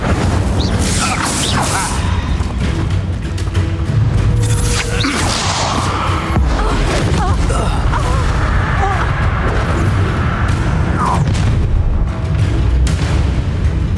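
A fire spell is cast in the Hogwarts Legacy video game, giving a loud, continuous burst of booming, whooshing combat effects over a dense game soundtrack, with a voice speaking now and then.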